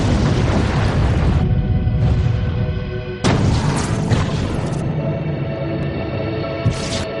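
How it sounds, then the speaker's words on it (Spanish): A massive volcanic eruption blast tearing open a mountain's north face in a lateral explosion, heard as a loud, continuous roaring rumble with a second sharp surge partway through, dense and sustained throughout. "Se produce un estallido lateral"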